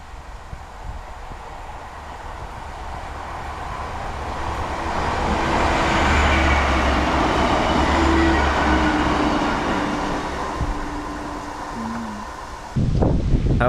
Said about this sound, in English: As we sat, yet another train would pass.